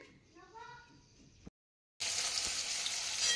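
Vegetable bhaji sizzling and frying on a home stove on a cold day, a steady dense hiss that rises loudly after a short silent gap, with talk heard faintly before the break.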